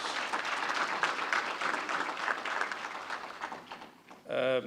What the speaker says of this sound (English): Please join me in giving the Honorable Minister a bigger round of applause